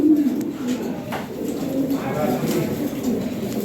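Lahore pigeons, a fancy big-size breed kept in a loft with eggs and chicks, give soft, steady low cooing that continues throughout under a noisy background.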